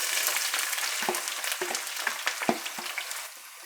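Sliced onion, red pepper and jalapenos fry in hot olive oil, giving a loud crackling sizzle with bursts of popping and a few stirring knocks, up close and unaccompanied by talk.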